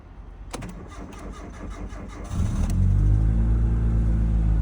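A Kia Rio cold start: starter cranks in a rapid rhythmic churn for about two seconds, then the engine catches and settles into a loud, steady low idle rumble, recorded up close.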